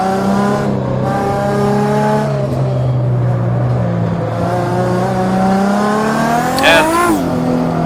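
A drift car's engine holds a steady, loud rev close by for several seconds. Its pitch wavers, then climbs sharply near the end, with tire squeal and hiss running underneath.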